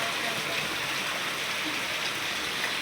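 Heavy rain pours in Gunjala while water drips into a house, making a steady, even hiss of rainfall and running water that continues unbroken from start to finish.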